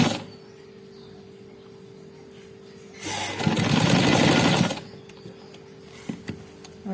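A sewing machine stitches a patch onto a shirt, running in one loud, steady burst of about a second and a half, with quieter handling and faint clicks before and after.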